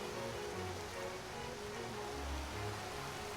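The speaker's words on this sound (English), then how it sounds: "it will keep raining until you say so" Steady rain from the Skyrim video game, a continuous soft hiss of falling drops with low rumbling underneath, fairly quiet and even throughout with no voices.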